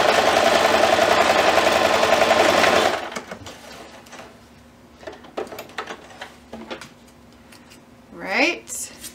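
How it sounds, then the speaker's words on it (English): Sewing machine stitching a 1/4 inch seam along the short sides of a fabric scrunchie, a loud steady whirring run of about three seconds that stops, followed by quiet handling noises and a brief voice. "we're going to take our scrunchie and we're going to line up our short sides. We're going to stitch it at 1/4 inch."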